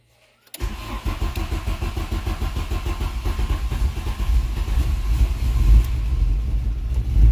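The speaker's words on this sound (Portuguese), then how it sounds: "Vamos fazer um teste aqui e ligar o carro." A car engine fitted with a new FuelTech relay panel cranks and catches after a brief silence, then idles with a steady rumble that grows slightly louder.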